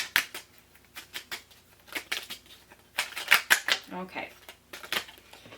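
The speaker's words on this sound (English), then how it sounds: "I'm going to just shuffle them all." Tarot cards being shuffled by hand make a run of quick, dry clicking and riffling taps in uneven bursts, close and fairly soft, with a person speaking briefly.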